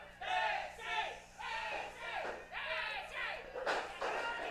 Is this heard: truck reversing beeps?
no